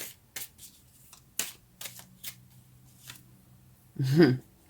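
A deck of tarot-style cards being handled during a reading, with light flicks and taps followed by a short, loud riffle near the end, close by and interleaved with quiet talking.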